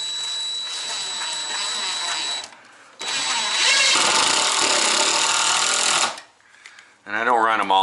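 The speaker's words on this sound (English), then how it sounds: "So we'll run a couple screws into it." A power drill drives screws into a shower/bath valve installation during a renovation, two loud close whirring bursts separated by a brief pause, with a short rattling sound at the end.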